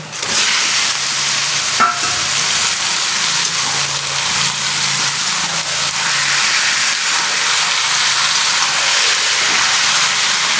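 Mutton pieces hit a hot pan for a Bengali mutton curry and set off a loud, steady sizzle that fills the whole stretch, broad hissing frying noise with faint low clatter beneath.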